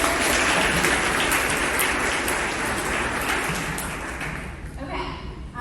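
Crowd applause at an association membership meeting and officer installation, a steady wash of clapping from a room of attendees that slowly fades, with a voice starting up at the end.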